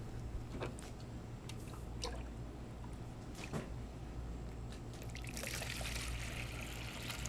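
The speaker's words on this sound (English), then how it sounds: "So now we're gonna start adding water into our" Water trickles and pours steadily from a pitcher into grain bags for mushroom spawn, with a few soft knocks and a brighter splashing rush near the end.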